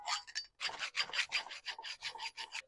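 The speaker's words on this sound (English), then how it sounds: "We're just going to get a file and just file all around here." A metal file rasps against a car suspension part on a 1976 Toyota Celica in a run of about ten short, rhythmic strokes after a brief pause, close and fairly quiet with no talking.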